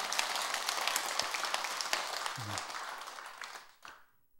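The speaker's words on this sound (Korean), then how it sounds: "맞다고 하면 또 박수를 쳐야지." Worshippers at a Buddhist temple Dharma talk clap together in a dense burst of applause that thins and fades out over a few seconds, with a few last scattered claps before silence.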